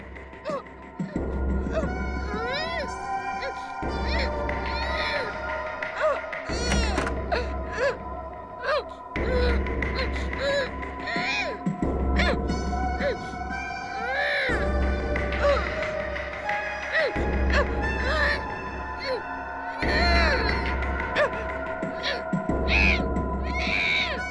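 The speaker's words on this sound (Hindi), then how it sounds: "रोने की आवाज इस कमरे से आ रही है" A baby's cries play from a tape recorder in a room, repeated wailing bursts at regular intervals over a low rumbling bed, loud and slightly distorted, continuing throughout with no speech.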